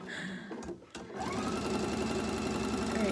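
A sewing machine stitches quilt pieces for a triangle-technique star quilt, whirring briefly, pausing for a moment, then running in a steady close-up rattle until the end.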